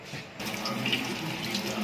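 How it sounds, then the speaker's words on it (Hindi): Tap water runs steadily over black plums (jamun) being washed in a sink, a close, continuous splashing rush with no one talking. "जामुनों को हम पानी से अच्छी तरह से वॉश कर लेंगे सबसे पहले।"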